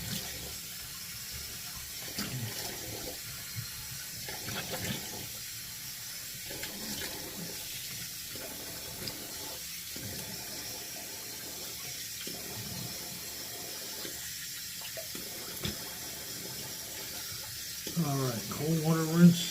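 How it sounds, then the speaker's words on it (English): Cold water runs from a tap into a bathroom sink for a rinse, a steady close splashing stream that is interrupted repeatedly as something passes under it, with a louder burst near the end. "cold water rinse"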